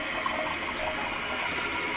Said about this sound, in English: You see how it's still flowing a little bit,